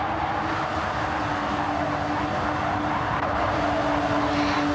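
Porsche GT4 Cup race cars at the High Speed Ring in a racing video game: dense, steady engine roar and whining drivetrain tones run continuously at full volume, with no voices.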